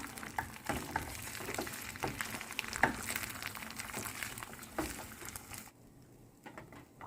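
Eggs sizzle and crackle steadily in a hot pan while being scrambled for stir-fried glass noodles, with occasional scraping and stirring taps, fairly close.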